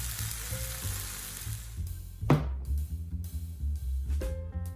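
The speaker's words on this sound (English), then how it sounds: "Saute until the moisture evaporates." Rice croquette filling with consomme powder sautés in a pan, a short sizzle that fades as a pan or utensil knocks and scrapes nearby, with a low background hum.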